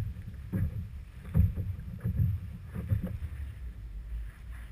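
A pedal kayak gliding through water with soft sloshing and rhythmic low thumps from pedaling, plus light wind rumble at the microphone.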